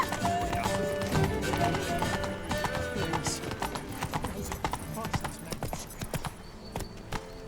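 Roach, the horse in The Witcher 3: Wild Hunt, galloping with fast, clear clip-clop hoofbeats and a brief whinny, layered over game music and a passing voice.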